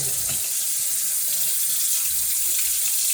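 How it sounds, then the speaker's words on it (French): Lukewarm water runs steadily from a tap or vessel onto yeast, a close, continuous splashing stream without pause. "Je vais mettre de l'eau dans le levure."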